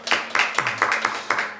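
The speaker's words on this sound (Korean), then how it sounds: "우리 하나님께 영광의 박수 올리겠습니다." A church congregation at a Thursday worship service applauds, with brisk, dense clapping swelling in several close bursts over a moment and no talk over it.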